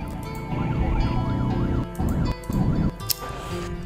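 Ambulance siren wailing in a repeating rising and falling pattern as it arrives at an accident scene, moderately close, over engine and traffic noise.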